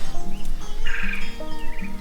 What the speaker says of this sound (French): Alors, c'est des canards de Barbarie.